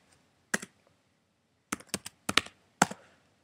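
Typing on a Mac computer keyboard, a few sparse clusters of crisp key taps separated by pauses, close and quiet, with no other sound.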